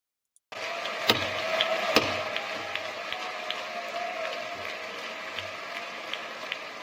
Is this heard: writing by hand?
no